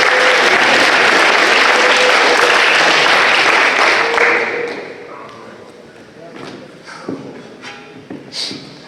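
Loud, dense applause from a high school after-prom crowd for people on stage, sustained for about four seconds before fading into scattered claps, thumps and shuffling, with voices underneath.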